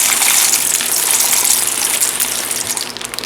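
Shell pasta goes into a pot of water that has been at a rolling boil for about ten minutes; a steady rushing, bubbling roar fills the space up close and fades slightly toward the end.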